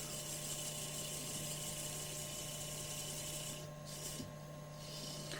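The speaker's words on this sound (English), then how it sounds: "I'm using about a 320 grit paper." Light hand sanding of turned wood with 320 grit sandpaper, a steady close rubbing rasp under a constant background hum, briefly pausing and easing near the end.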